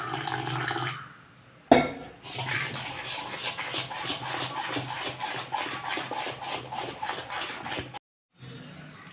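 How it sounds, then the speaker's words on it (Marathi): Water poured into a metal cooking pot, a continuous splashing pour of several seconds after a brief clatter, close and moderately loud, stopping abruptly near the end. "ह्याच्यामध्ये थोडंसं पाणी घालूया."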